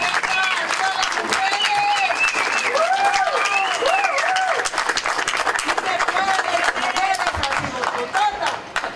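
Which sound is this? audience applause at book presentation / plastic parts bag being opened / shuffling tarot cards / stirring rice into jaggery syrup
audience applause at book presentation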